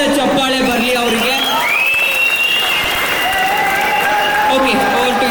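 Loud applause from an audience at a film song launch for a rapper, dense continuous clapping with some cheering, close and sustained, while a voice speaks over it.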